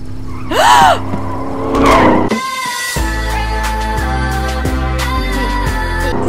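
Car speeding along a road in the video game The Revolutionary Watermelon: loud synthetic whooshing and zinging swells, a brief silence, then a steady game tone with rhythmic pulsing, no talk.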